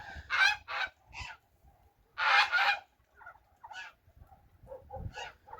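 Several loud honking and clucking calls from chickens perched in tree branches, in irregular bursts, close by, with pauses between them and faint rustling underneath.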